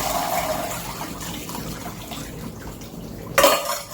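Boiled potatoes being drained, a steady rush of water pouring out under a continuous wash of splashing, ending in a louder burst of sloshing and clatter near the end.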